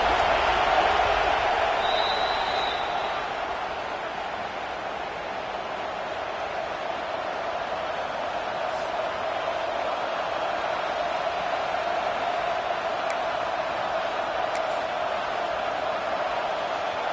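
Steady roar of a stadium crowd at a football game as the field goal unit lines up, a dense wash of voices holding at an even level throughout with no distinct cheers or claps standing out.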